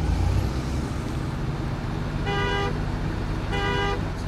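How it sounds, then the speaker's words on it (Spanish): Truck horn in the off-road driving game SnowRunner, sounding two sustained honks of about half a second and under a second, separated by a gap, over a steady rumbling engine drone. "Sí, Felipe, ya sabemos que tiene bocina acá"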